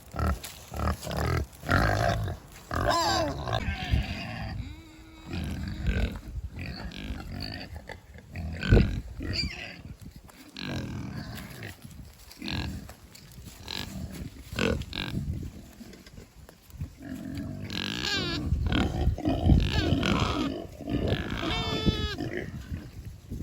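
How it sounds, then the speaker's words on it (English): Farm animals grunting and snorting close by in a winter farmyard, a steady run of rough, low calls and shuffling noises over the whole stretch with no talking. "So I'm down here by the pigs"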